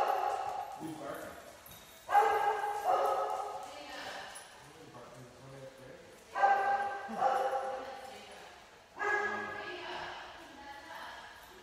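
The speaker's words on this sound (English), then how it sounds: "Who's barking?" Several dogs bark in loud bursts of yips and bow-wows, roughly every few seconds in clusters, fairly close, with people talking quietly in between.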